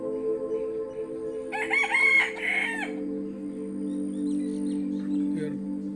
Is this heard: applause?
no